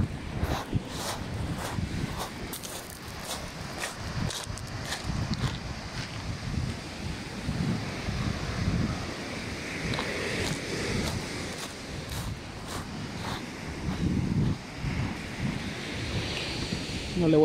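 Ocean surf breaks continuously at Playa El Salado beach in Marina Vallarta, Puerto Vallarta, where the water runs right up with no strip of sand left. Rolling waves churn under strong, buffeting wind noise on the microphone, with no talking.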